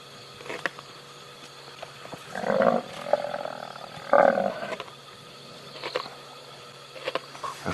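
Lions roaring and growling during a night hunt on wild buffalo, with two louder rough bursts in the middle among fainter grunts and rustling at moderate distance.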